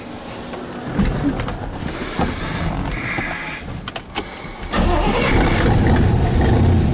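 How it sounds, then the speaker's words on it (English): A 1966 Corvette with a 427 big block engine is started cold: clicks and cranking are followed by the engine catching at about five seconds, then a steady, loud, close idle. "I like to start my cars cold for you guys."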